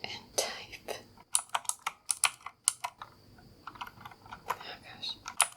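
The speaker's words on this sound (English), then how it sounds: "Okay, now that the keys are off, I'm gonna try and type." Fingers type on a Razer keyboard with the keycaps removed, giving sharp, irregular clicks and clacks close to the microphone, with faint whispering underneath.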